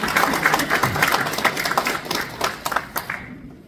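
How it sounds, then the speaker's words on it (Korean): Dense audience applause at a certificate ceremony in a National Assembly meeting room, many hands clapping steadily and fairly loud, then tapering off near the end. "뜨거운 박수로 모시겠습니다"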